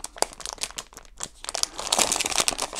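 Plastic bag crinkling close to the microphone while unboxing PlayVital controller accessories, a busy run of crackling, rustling handling that grows denser and louder toward the end, with no talking.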